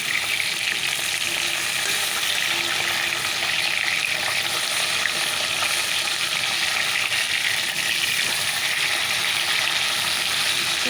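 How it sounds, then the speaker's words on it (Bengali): Fish frying in hot oil, first a small fish and then prawns, makes a loud, dense and continuous sizzle that stays steady throughout with no voices. "তো চলো আগে মাছগুলো ভেজে নিই তো আগে আমি পলি মাছটাকে ভেজে নিচ্ছি"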